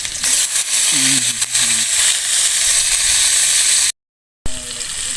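Ginger and onion sizzling in a pan of hot oil for a coconut-milk snakehead dish, a steady bright frying hiss that cuts off briefly before resuming, with faint tonal sounds early on.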